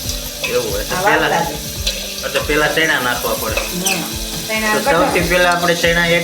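Onion dropped into hot tempering oil with spices for a village-style green onion curry, a loud, steady crackling sizzle close by, running throughout with bursts of spattering and some background voices.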